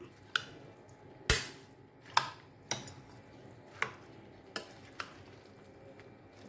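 A vegetable salad being mixed by hand, with a spoon clinking against the bowl in several sharp, separate taps and scrapes over a soft, quiet background.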